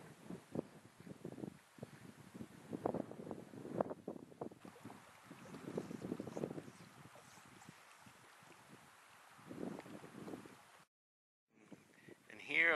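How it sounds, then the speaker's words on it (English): Wind gusting at Sylvan Lake, buffeting the microphone in uneven rumbling bursts that rise and fall, with people talking intermittently over it and a brief dropout near the end. "Scenic, but windy."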